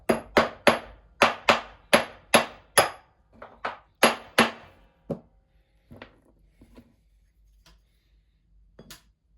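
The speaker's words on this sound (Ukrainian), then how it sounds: "Штіфти краще забивати якимось мідним молотком, щоб не розклепати його." A copper hammer drives steel pins into a Jawa motorcycle part with a steady series of about ten sharp metallic strikes, then a few lighter taps and clinks trail off.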